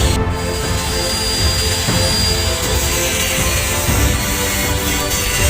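The sides of a wooden portable washbasin cabinet are sanded smooth with a power sander that drones loudly and steadily at close range, with a high whine throughout and no talking.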